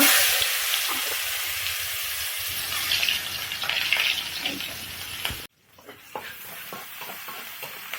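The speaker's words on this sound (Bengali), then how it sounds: "এখন তেলের উপরে আমি পেঁয়াজ দিয়ে দেবো রান্নার জন্য" Onions frying in hot oil in a home kitchen, a loud continuous sizzle and hiss that cuts off abruptly, followed by quieter stirring scrapes and clinks.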